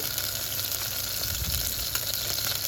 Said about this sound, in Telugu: కొంచెం నూనె పోసేసుకొని ఒక టమాటా ఇది కూడా వేపుకుందామండి